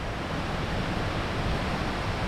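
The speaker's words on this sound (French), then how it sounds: "Et la cascade elle est là." Waterfall on São Miguel beside vegetation and tunnels, a steady, loud, unbroken roar of rushing water filling the whole space with no voices.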